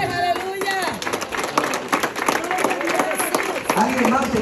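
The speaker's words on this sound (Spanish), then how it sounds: "Dale un aplauso." A church congregation in New Jersey claps for people coming forward at a service, with quick, lively clapping mixed with a prominent voice speaking and calling out over the crowd.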